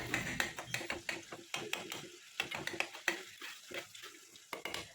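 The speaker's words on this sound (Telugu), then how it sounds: "ఒక 5-6 నిమిషాల పాటు ఇది ఈ విధంగా కలుపుకుంటూ కాసేపు దగ్గర అవ్వనివ్వాలన్నమాట" A ladle stirs and scrapes a pav bhaji mixture frying in oil in a pan, making rapid, irregular metallic knocks and scrapes with a soft sizzle underneath, close and busy throughout.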